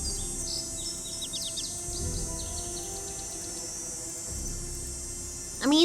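Birds chirp and tweet repeatedly in a forest in Nancy Drew: Ghost Dogs of Moon Lake, with short high calls over a steady ambient hum and a brighter rising call at the very end.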